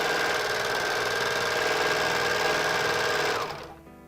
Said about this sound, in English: So I turn the serger on,